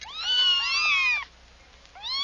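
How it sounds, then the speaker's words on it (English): Kittens meow in a quick run of high, sliding calls, several voices overlapping, then a short pause before another cry starts. "Kittens."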